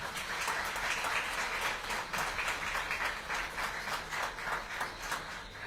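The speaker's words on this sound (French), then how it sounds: "je vais vous demander, s'il vous plaît, de l'applaudir très très fort" A crowd at a Tour de Guadeloupe 2024 team presentation applauds loudly and continuously, with rapid, even clapping that holds for several seconds before easing slightly.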